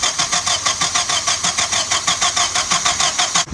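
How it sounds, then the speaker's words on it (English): A Nissan Navara D21 engine is repaired after hydro-locking from a river crossing and cranks over with a loud, rapid, rhythmic starter churn that pulses evenly for several seconds without catching into a clear idle. "All right, motor's back together. Hopefully she starts."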